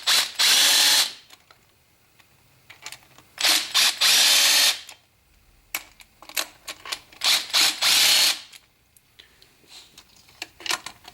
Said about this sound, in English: I'm using a 1/4 inch drive socket.